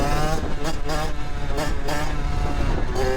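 A 50cc moped engine with a newly replaced spark plug and an ignition fault revs steadily at close range, giving a buzzy, raspy drone that dips and surges slightly as the throttle varies.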